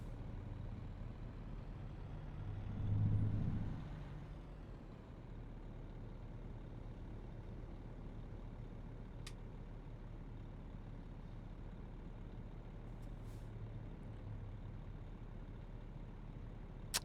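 Truck engine in American Truck Simulator: a low, steady idle hum throughout, with a short swell early on and a faint brief hiss, otherwise quiet and unchanging.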